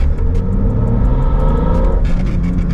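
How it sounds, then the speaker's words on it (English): A BMW engine with individual throttle bodies revs loudly with a raspy, rumbling intake roar, the pitch climbing and swelling close by without any voices. "I can actually hear the induction noise"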